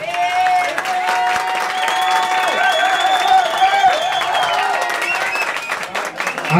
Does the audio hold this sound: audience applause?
yes